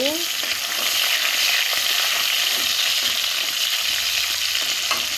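Cumin, onion and two green chilies sizzle and fry in a pan while being stirred, a steady loud hiss throughout with occasional stirring scrapes, no talk.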